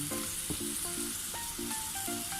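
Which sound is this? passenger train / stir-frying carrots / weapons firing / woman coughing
stir-frying carrots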